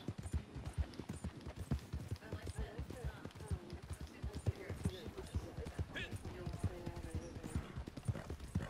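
Horse hooves clip-clopping in the video game Red Dead Redemption 2 Online, a quick steady trotting rhythm heard faintly under ongoing talk and game ambience.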